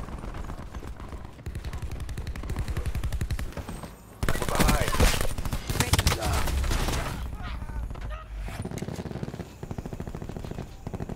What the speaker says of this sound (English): Speeding up his SMG and just shooting around the corner from the hip